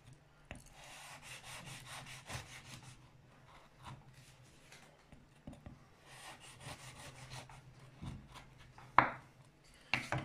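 A knife saws through a warm, freshly baked croquet biscuit with dry, scraping strokes, one close cut after another and a couple of sharper scrapes near the end, with no talking.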